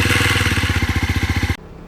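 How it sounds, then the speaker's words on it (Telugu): Honda CB300R motorcycle engine on ignition start, a close, loud, rapid rhythmic chugging rattle that runs for about a second and a half and then cuts off abruptly. "ఇంజన్లో ఇగ్నిషన్ స్టార్ట్ చేసినప్పుడు ఒక సౌండ్ వస్తుంది"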